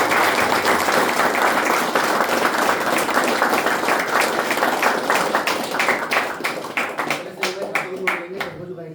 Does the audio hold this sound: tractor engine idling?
no